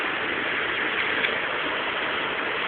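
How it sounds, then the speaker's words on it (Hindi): Rain beating on a car during a winter storm with hail in Gujranwala: a steady dense hiss, even and close, with no voices. "बारिश हो रही है"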